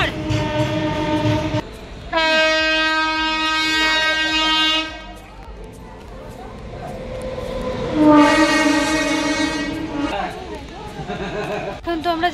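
A train horn sounds in two long, loud blasts at a station during a wait for a delayed train, with rail rumble and people talking nearby between the blasts.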